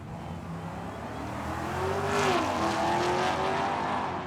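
At a drag strip, a Dodge Hellcat and a Plymouth launch side by side, engines revving up into a loud rising roar that peaks midway, with a pitch sweep as the cars pull away.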